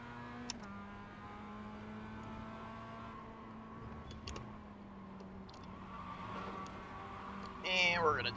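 Mazda MX-5 race car in the iRacing sim, a steady engine drone holding pitch with shifts and a brief rising rev near the end, fairly quiet and continuous.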